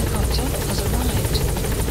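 A helicopter in the video game Metal Gear Solid 5, a loud, steady rotor roar with a rough low thump that fills the whole stretch without letup.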